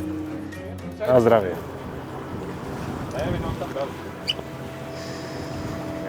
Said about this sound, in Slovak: Vyrazili sme na more a riešime aktuálne plachty, fúka nám ideálne nejakých 18 až 20 uzlov